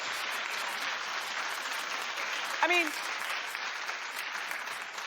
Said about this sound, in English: clap if you were a little uncomfortable